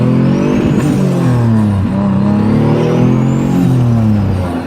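Car engine revving hard while driving at around 60 mph, a loud, close, continuous growl whose pitch climbs and drops through gear changes, with no talk over it.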